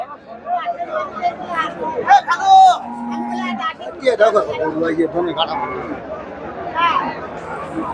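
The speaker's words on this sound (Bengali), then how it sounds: "এই যে দেশি গাভী।" A native dairy cow moos several times, close and loud, at the Chandaikona cattle market, with people chattering in the background.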